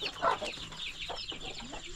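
Roosters and hens in an organic chicken coop, clucking and calling in a busy overlapping chorus at moderate distance, with no one speaking over them.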